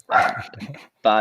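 A dog barks nearby in a short burst right after a man's speech, the bark standing clear and loud at the end.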